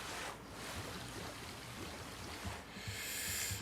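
A small multi-tiered waterfall in Jurassic World Evolution 3 pours in a soft, continuous rushing trickle, quiet and steady, with a brighter hiss of splashing water toward the end.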